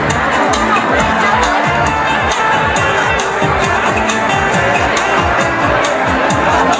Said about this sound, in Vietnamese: để chúng ta cùng vang lên tràng pháo tay thật lớn hơn nữa